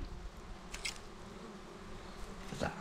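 Dwarf honey bees hum and buzz steadily around a wild nest on a mountainside, with a few closer insect passes standing out against outdoor background noise and no talking.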